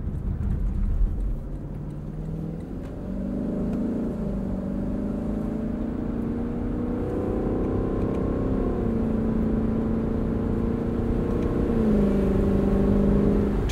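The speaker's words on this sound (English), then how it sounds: "I think the downshifts are my favorite. It's just a symphony." A 2021 Lexus LC 500 Convertible's V8 heard from the cabin, rising in steady revs and then blipping through downshifts, each drop marked by a quick pitch step, loud and continuous throughout.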